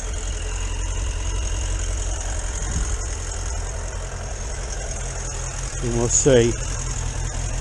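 A Suzuki Bandit 650 motorcycle engine idles steadily on too much choke while warming up, a constant low rumble throughout with a brief rise in revs near the end, as someone speaks over it.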